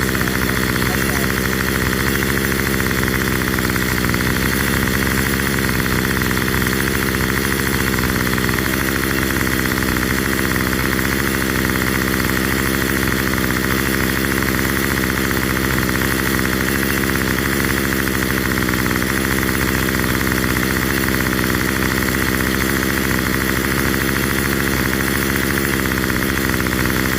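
A Remington string trimmer's small engine runs steadily at idle for the whole stretch, a constant buzzing drone with faint vibration and no breaks.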